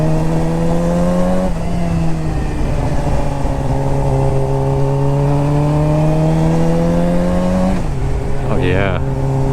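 Close, loud exhaust drone from a car cruising on the highway, its pitch sliding down and then shifting as the car changes gears, with a brief rising rev near the end.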